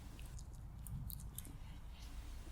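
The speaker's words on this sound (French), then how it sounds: "Pas vraiment discret, il mastique bruyamment." A hedgehog chews cat or dog food noisily at night in Paris, a faint wet crunching and smacking close by under low background noise.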